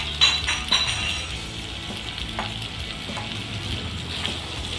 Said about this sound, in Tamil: இப்போ மக்ரூனியை கொட்டிடலாம்